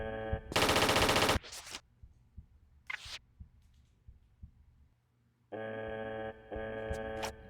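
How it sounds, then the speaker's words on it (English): Gun turrets fire in the Tomb Raider III video game as loud bursts of rapid gunfire, then tonal game sound effects, with smaller scattered shots and clicks in between. "better watch out for all the guns that are going to shoot at you"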